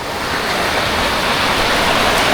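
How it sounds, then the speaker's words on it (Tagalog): Gentle low-tide sea waves roll in one after another at a sandy, rock-free beach ringed by mountains, making a steady, close, even wash of surf with no voices. "Ang ganda ng alon."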